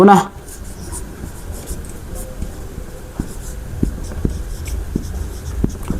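A pen scratches steadily across paper while a math solution is written out, giving faint, close, irregular strokes after a brief voice at the very start.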